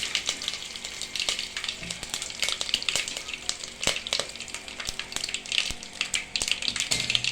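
Whole spices, including fenugreek and cumin, crackle and sizzle in hot oil for sambhar, a close, busy frying hiss dotted with sharp pops and occasional stirring clinks, no voices present.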